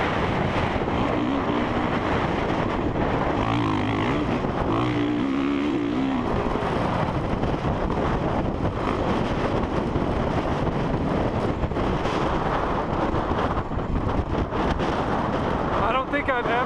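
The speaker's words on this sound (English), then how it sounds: "I don't think I've ever rode in wind this strong" Strong gusting wind roars steadily across the microphone at a dirt bike track with only a couple of bikes out, dust and tumbleweeds blowing, a loud continuous buffeting that persists throughout as someone talks over it.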